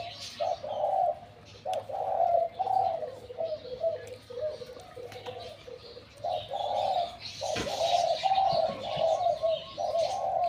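Decoy dove used as a caller, repeatedly giving its three-note cooing call in short, evenly spaced bursts, close and clear against a quiet outdoor background with a sharp knock partway through.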